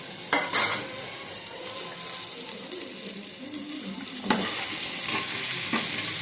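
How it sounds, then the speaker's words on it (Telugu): Okra frying in an oiled pan, a continuous sizzle with sharp scraping stirs near the start and again around the middle, close and clear with no talking. "ఇక బెండకాయలు వేస్తాను."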